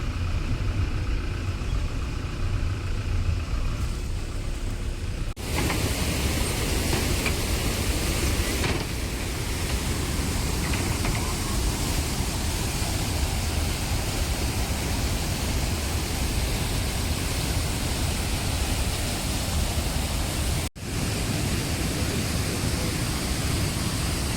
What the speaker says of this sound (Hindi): पानी इतनी तेज़ी से नीचे गिर रहा था कि उसकी आवाज़ कई मीटर दूर से ही सुनाई दे रही थी।